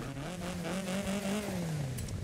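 A car with a 1.6 engine revs in Forza Horizon 5, the engine note rising and then falling over a couple of seconds, quiet and steady with no voices.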